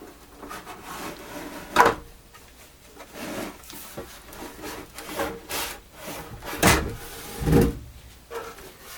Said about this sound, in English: After removing the screws, the whole back is supposed to slide out.